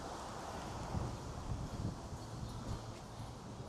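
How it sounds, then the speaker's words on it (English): Steady wind blows and buffets against the microphone in Williamsburg, Brooklyn, a constant low roar with slight gusts and no voices. "And it's very windy."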